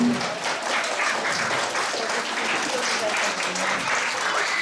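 An audience in a studio claps steadily and loudly for Badri, dense continuous applause filling the room with voices mixed in.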